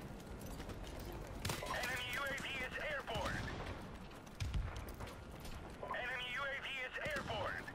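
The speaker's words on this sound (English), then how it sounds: "He's been shooting for a while now." Rapid gunfire crackles through a Modern Warfare Remastered multiplayer match in steady bursts, moderately loud and mixed with game sounds and players' voices.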